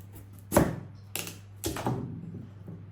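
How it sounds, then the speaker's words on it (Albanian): A knife chops through an unpeeled pumpkin on a board, cutting it into pieces for roasting: three firm, close thunks spaced about half a second apart, with a low steady hum underneath. "Këtë mënyrë bëjmë coptimin e gjithë kungullit."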